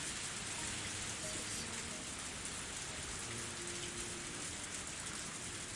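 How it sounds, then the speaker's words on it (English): Heavy rain pours in a Higurashi visual novel video game scene, a dense, constant roar of rainfall that fills the whole stretch with no pauses or voices. "I didn't think it would rain so hard."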